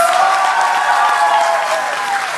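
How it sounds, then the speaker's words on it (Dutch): Audience applause at a student competition event, a steady dense wash of many hands clapping, loud and close, fading slightly toward the end with no voices on top. "Geef hem een applaus."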